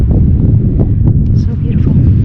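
Steady outdoor wind rushes and buffets a microphone, a continuous low roar with no breaks, while clouds roll across an open high vista near a survey marker.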